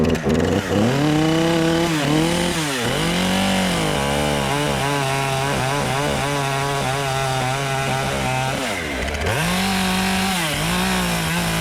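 A chainsaw roars loudly and continuously as it cuts a felling notch in a tree, its engine pitch dipping and rising under load, with a brief pause before revving again.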